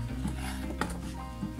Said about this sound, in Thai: หั่นเป็นชิ้นเล็กๆนะคะเล็กที่สุดเท่าที่จะเล็กได้นะคะ